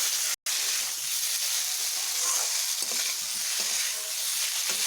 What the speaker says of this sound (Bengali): এইভাবে আরও একটুক্ষণ আমাকে ভাজতে হবে